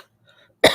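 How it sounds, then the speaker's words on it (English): A single sharp cough from someone recovering from COVID bursts out at the very end, loud and close after near silence. "Still getting over the COVID cough."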